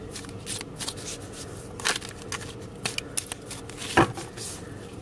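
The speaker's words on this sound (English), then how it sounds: "So I'm just going to give these cards a good shuffle." Tarot cards are shuffled by hand at close range: a run of soft riffling and flicking bursts with brief pauses, a few sharper snaps standing out, and no talk over them.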